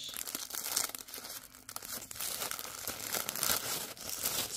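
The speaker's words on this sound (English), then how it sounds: "Tissue paper." Tissue paper crinkles and rustles loudly up close as a mail-order package is unwrapped, with continuous crisp crackling and brief tearing bursts throughout.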